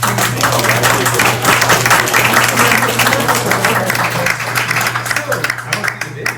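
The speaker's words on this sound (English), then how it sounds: "Let's give him a big round of applause" An audience at a county court's community law school session applauds after a speaker's talk, a dense, steady patter of clapping that tapers near the end, with voices mixed in and a low electrical hum underneath.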